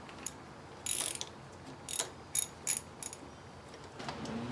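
Short ratcheting clicks come from tightening a fitting on a car air conditioner line, a few brief close bursts separated by pauses over low background noise.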